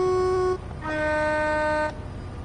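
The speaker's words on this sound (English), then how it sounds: "Wait, where's the horns? This one." Two-tone train horn in the Train Sim World 2 video game, a short low blast followed by a longer, louder sustained note, clear and near with no talk.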